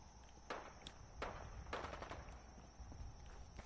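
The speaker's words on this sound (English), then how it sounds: "Those sounds are gunshots" Gunshots from a firefight in the video game Fallout 4 crack out as a few sharp reports in quick succession, somewhat distant, over a steady hiss of background ambience.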